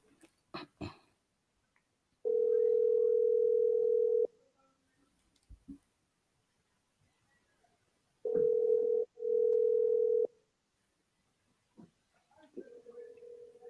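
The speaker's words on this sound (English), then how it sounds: "me hear your phone are ringing in your background" Phone tones ring in the background during a voice call, steady mid-pitched beeps in two long bursts with a shorter pair between, faint clicks and murmured talk around them.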